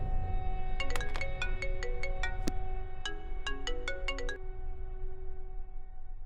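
An outgoing phone call rings back with a repeated electronic ringtone melody, two short bursts of tinkling tones over steady low background hum, fairly quiet.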